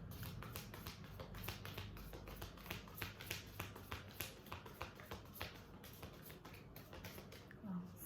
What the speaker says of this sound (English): So let's begin shuffling.